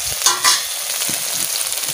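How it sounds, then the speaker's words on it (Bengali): Taro stolons fry in oil with salt in a pan, a loud, continuous sizzle with a couple of brief sharper bursts, alone without speech. "এমনি খালি লবণ দিয়ে আর তেল দিয়ে ভেজে নিচ্ছি।"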